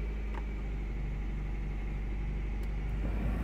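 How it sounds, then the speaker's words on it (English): A misfiring Honda CR-V engine at 268,000 miles idles with a constant low rumble and uneven churn, close and steady, with a couple of faint ticks over the drone. "That engine is very upset"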